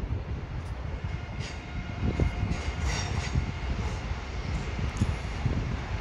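A Siemens Velaro TR high-speed train arriving at Ankara's high-speed rail station produces a steady broadband rolling rumble with faint squeals, heard at moderate distance for several seconds.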